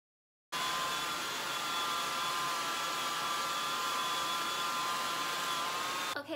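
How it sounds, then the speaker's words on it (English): A blow dryer drying hair, starting abruptly after a short silence and then running at a steady, loud, even whine with a constant airy rush until it cuts off at the end. "You can keep going with the blow dryer to get it even more bigger"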